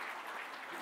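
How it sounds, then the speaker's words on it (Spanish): A brief burst of audience applause for an expert panel at a round-table session, a dense and even patter of many hands clapping. "Lo hacemos con un voto de aplauso."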